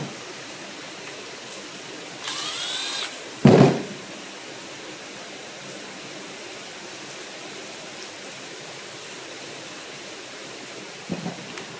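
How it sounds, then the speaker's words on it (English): A brief loud burst of a low-power drill whirring close by as it tightens a hose clamp, then a steady rushing background with a faint click near the end. "I always use a drill, and I just got a low power drill"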